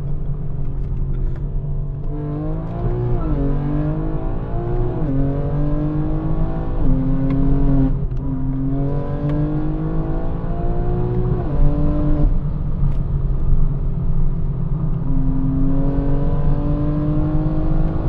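A Stage 3 tuned BMW M4 G82 with over 1000 horsepower accelerates hard and revs, its engine note rising in repeated sweeping pulls with brief drops at gear changes, loud and close throughout.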